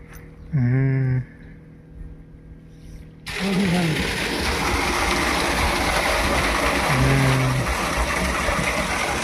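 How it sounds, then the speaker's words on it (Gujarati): Irrigation water starting to flow into an onion farm field: a brief humming motor-like tone early on, then a sudden loud, steady rushing wash of water that continues to the end. "પાણી ચાલુ થઈ ગયું ને."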